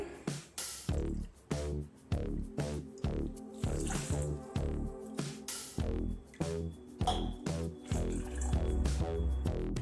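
Water splashes and drips into a pan of jaggery in a quick, uneven series of wet plops, close and fairly soft.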